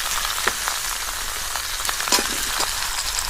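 Halved peeled whole potatoes in hot oil, a loud, continuous close frying sizzle with scattered sharp pops and crackles throughout.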